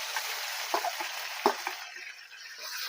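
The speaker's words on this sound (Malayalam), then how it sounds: "നമുക്ക് ഇനി അരച്ചു വെച്ചാൽ തേങ്ങ അതിനകത്തിട്ട് വെള്ളം പറ്റിച്ചെടുക്കാം" Grated coconut frying in a pan for a Kerala sadhya kurukku kalan as its water cooks off, giving a steady close hiss with a few soft stirring scrapes.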